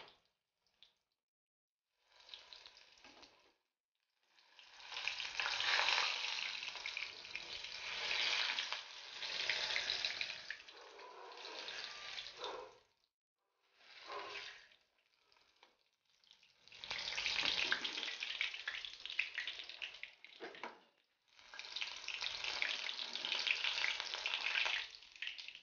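Bread rolls deep frying in hot oil give a steady loud sizzle and crackle in long bursts, broken by short quiet gaps, with no talking over it.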